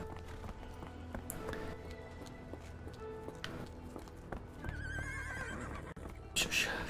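A horse whinnies in the video game Sherlock Holmes: The Awakened, a short high neigh near the end over faint game ambience and soft footsteps, with a quiet voice nearby.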